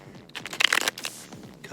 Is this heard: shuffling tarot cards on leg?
yes